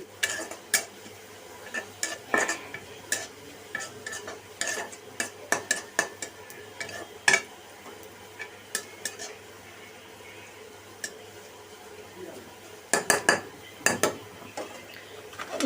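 Dal tempering in a pot, heard as a soft sizzle under frequent metallic clinks and scrapes of a spoon against cookware, irregular and close, with a few louder clusters near the end.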